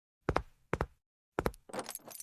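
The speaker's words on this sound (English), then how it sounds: "Bring the keys." A bunch of keys jangles in short metallic bursts: two quick shakes, a pause, then a longer rattling jingle, close and clear against silence.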